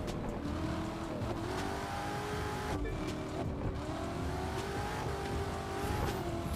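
A Chevrolet Corvette C7 ZR1 convertible in The Crew 2 revs and accelerates steadily, the engine note rising and falling through gear changes with faint tire squeal, loud and close.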